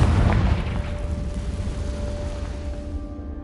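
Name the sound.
Confringo explosion spell cast in video game Hogwarts Legacy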